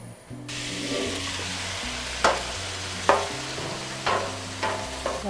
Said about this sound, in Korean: 참기름에서 고기를 볶습니다